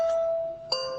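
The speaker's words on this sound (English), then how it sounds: "When the doorbell rang at Deborah Crosby's Yulee home" A doorbell at a home rings with a two-tone ding-dong chime, faint and brief, the second note striking brighter after a short pause.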